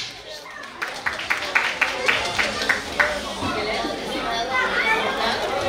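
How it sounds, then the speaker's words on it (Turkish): Guests at a wedding celebration clap in a steady, rhythmic run of claps, then trail off into lively crowd chatter. Chattering voices fill the room around the claps. "Alkış"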